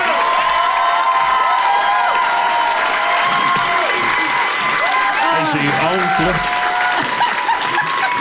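A live comedy show crowd in Québec applauds and cheers loudly and continuously, with whoops, laughter and shouting voices layered over the clapping and a brief spoken line in the mix.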